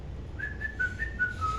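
A short whistled tune of a few sliding notes, clear and close, over a faint low background.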